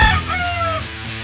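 A Red Kelso gamefowl rooster at a gamefarm crows once, close and loud, in a full drawn-out call that fades toward the end with no talking over it.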